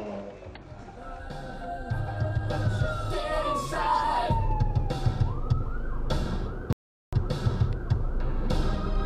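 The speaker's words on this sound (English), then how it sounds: "Oh, you stupid ambulance!" A wailing ambulance siren sweeps up and down in pitch over a noisy road background with some crowd sound, fairly near, with a short gap of silence.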